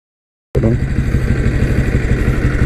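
A Taurus diesel 325cc Bullet motorcycle engine starts abruptly and idles close by, a loud steady diesel chugging with an even, rapid thumping rhythm.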